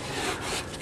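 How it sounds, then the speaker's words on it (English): Brief, faint rubbing scrape of sanding on a wooden model railroad scenery piece, a short soft stroke close by with no talk. "get that all sanded"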